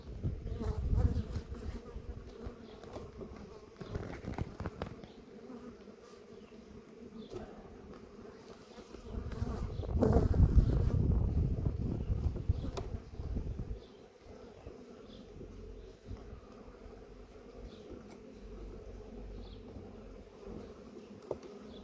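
Honey bees buzz around an opened hive in spring, a dense close swarm drone that swells in the middle, with faint handling rustles underneath.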